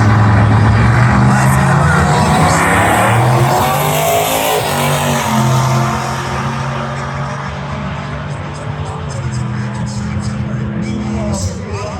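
A fast street car at a drag strip event roars loudly as it accelerates, its engine note climbing and shifting through gears before fading slightly as it pulls away, with no voices over it.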